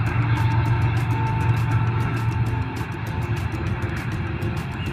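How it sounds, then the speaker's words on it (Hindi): A freight train rolls past a rural level crossing beside wheat fields, a steady loud rumble with rhythmic clacking of wheels on rail joints, close and continuous throughout. "ये ट्रेन आ गई है, ये देखें"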